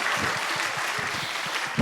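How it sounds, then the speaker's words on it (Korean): A short burst of applause, dense rapid clapping from a group that stays steady and fairly close, with no voices over it. "박수."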